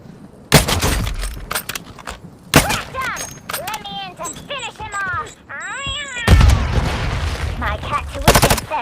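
Gunfire in Warzone Mobile comes in short, loud bursts, then breaks into a longer sustained volley near the end, with voices and chirping game sounds filling the gaps.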